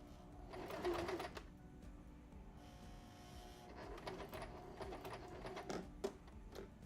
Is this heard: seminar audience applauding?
no